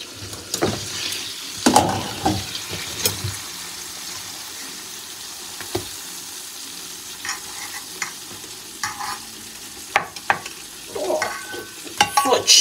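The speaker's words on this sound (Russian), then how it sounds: "На двух сковородках жарю сразу." Pork-neck cutlets frying in two pans at once, a steady low sizzle with scattered clatters and scraping of a utensil against the pans, recorded close up in a home kitchen with no talking.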